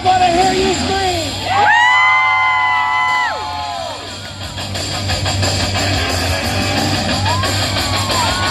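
A crowd at a monster truck show screams and cheers loudly as an amplified announcer voice rings through the arena, with a sustained roar that fades and swells again.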